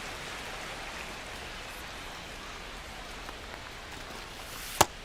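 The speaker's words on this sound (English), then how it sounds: "This rain is not letting up." Steady rainfall in the baseball video game MLB The Show 25, a soft even hiss of drops on a surface throughout, with one sharp brief click near the end and no talk.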